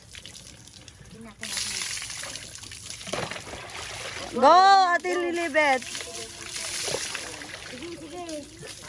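Water is poured and trickles over someone taking a bath, splashing in bursts beneath lively talking voices, with a high-pitched voice calling out in the middle.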